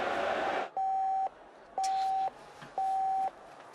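Three evenly spaced electronic ringing tones sound from a phone call waiting to be picked up, each a steady half-second beep with quiet gaps between, clear and close.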